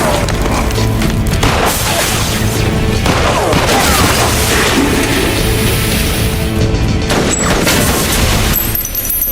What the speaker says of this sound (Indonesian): aksi adu tembak tak terhindarkan